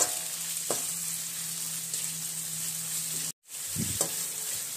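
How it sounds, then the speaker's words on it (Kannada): Sliced onions fry over high flame in a large kadai, a steady close sizzle with occasional stirring scrapes, briefly cutting out for an instant before resuming; no one speaks. "ಈಗ ಫ್ಲೇಮ್ ಅನ್ನು ಹೈಗೆ ಟರ್ನ್ ಮಾಡಿಕೊಂಡು ಈರುಳ್ಳಿಯನ್ನು 2-3 ನಿಮಿಷ ಚೆನ್ನಾಗಿ ಫ್ರೈ ಮಾಡಿ"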